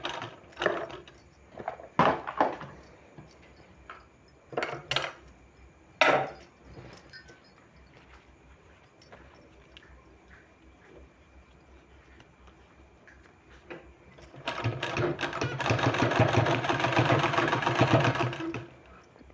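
A sewing machine stitches sleeve fabric in a steady, loud whirring run near the end, after a stretch of scattered clicks and handling knocks.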